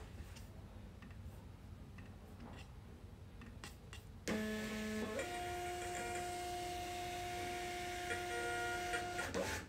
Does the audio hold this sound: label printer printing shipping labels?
yes